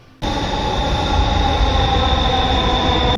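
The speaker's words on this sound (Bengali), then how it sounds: "ট্রেন স্টেশনে ঢুকে গেল" A metro train suddenly roars into a station after a quiet moment, a loud continuous rumble with a high steady whine.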